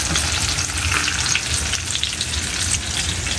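Eggplant omelette frying in a pan just after the eggs go in, a dense, constant loud sizzle and crackle with no talking.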